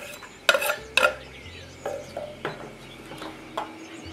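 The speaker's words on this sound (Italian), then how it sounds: "E metto la cipolla tritata in una padella" Chopped onion in a frying pan gives a low sizzle, broken by several sharp clinks of a utensil scraping and stirring against the metal pan, close and fairly loud.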